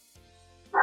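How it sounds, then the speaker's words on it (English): A dog barks once, short and fairly loud, near the end of an otherwise quiet indoor stretch. "Sorry if you can hear my dog barking."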